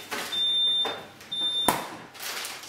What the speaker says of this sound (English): every time you open the fridge, the alarm goes off so everyone knows what you're doing